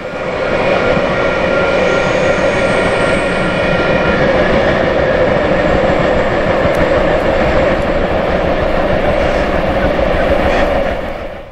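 A V-set electric passenger train built between 1970 and 1989 rumbles past Wondabyne station, a loud, sustained roar of wheels and motors that holds steady, then tapers slightly at the end.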